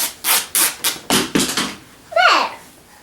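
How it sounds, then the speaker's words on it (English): Fabric is torn by hand just below a fold in a wood block snowman craft project, giving a series of about six short, loud ripping bursts close by, then a longer rasping tear. "I'm going to rip just a little below the fold"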